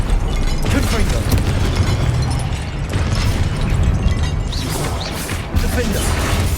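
A Confringo blasting spell bursts in Hogwarts Legacy on Xbox Series X, a dense, loud explosive crash with crackling debris amid continuous game combat noise and music.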